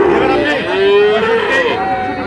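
Several Sahiwal bull calves and other cattle moo loudly and close, long drawn-out lowing calls overlapping one another amid the steady hubbub of a busy crowd at the Ambari cattle market in Dinajpur.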